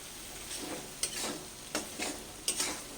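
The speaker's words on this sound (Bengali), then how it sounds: "দিয়ে আবারও এটাকে ভালো করে একটু দু মিনিট মতন কষে নেব" A spice masala with tomato and fenugreek leaves is stir-fried for an eggplant dish, giving a continuous sizzle broken by three or four distinct spatula scrapes at a slow, regular pace, close and with no voices.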